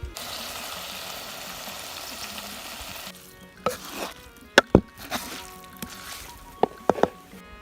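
Roasted small dried shrimp (jawala), washed beforehand, tossed into a hot pan with potato and stirred, giving a steady close sizzle that softens midway, then sharp scraping clacks of the spoon against the pan.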